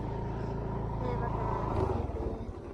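Vehicle driven slowly, a steady low engine drone throughout, close and constant, with people talking over it.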